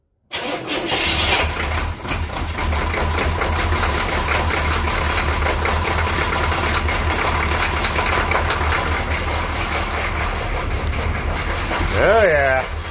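An old high-mileage engine with 280,000 miles is cold cranked and catches almost at once, then runs loud and close with a rough, steady idle. It continues unbroken for the whole stretch, with a slight rise near the end.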